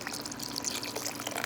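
Water is poured from a larger coffee mug into a crock pot being readied for chicken, a short, steady splashing trickle close by with no voices.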